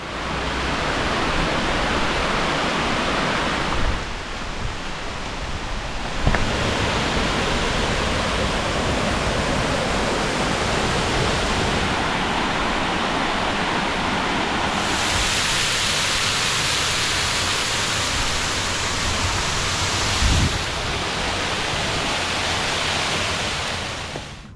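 Buttermilk Falls on Buttermilk Creek, a gorge waterfall, roars as a steady broadband rush of falling water, loud and continuous throughout with no voices.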